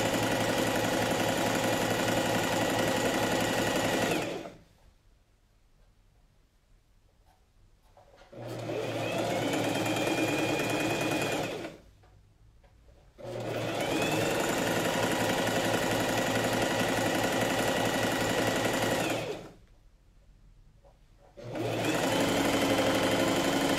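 A sewing machine stitches a coat in three long, loud, steady runs, each several seconds long, with brief pauses between them and no talking.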